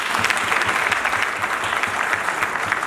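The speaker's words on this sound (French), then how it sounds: "Applaudissez." Guests at a civil wedding ceremony applaud together, a loud, continuous patter of many hands clapping with a fairly even rhythm from start to finish.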